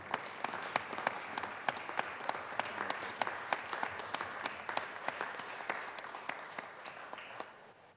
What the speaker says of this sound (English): Members, please join us in a round of applause for the sorority.